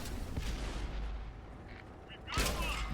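A tank cannon fires in World of Tanks, a loud booming blast with a rumbling tail at the start and another sharp shot near the end, under steady game rumble.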